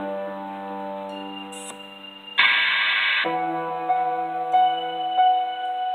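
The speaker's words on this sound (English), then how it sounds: "it's an open hat that was reversed." A reversed open hi-hat cymbal in a music mix, swelling up and cutting off abruptly in the middle of the track, over sustained tones and light ticking percussion.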